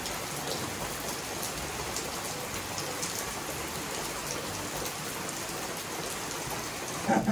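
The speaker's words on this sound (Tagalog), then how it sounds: "Bigla pong umulan na malakas" Heavy rain pours down steadily, a dense hiss of drops drumming on surfaces close by, continuous throughout with a brief louder clatter at the very end.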